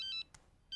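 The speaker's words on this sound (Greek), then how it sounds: "Θα πάρω στο κινητό." A mobile phone rings with short electronic tone bursts, two quick pulses, then a gap and another burst starting, close and clear in a quiet room.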